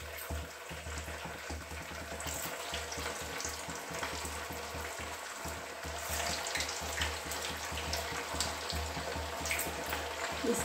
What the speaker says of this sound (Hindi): अब हम एक कढ़ाई में पहले से तेल को गरम किए हैं, अब इसमें हम इसको फ्राई कर लेते हैं।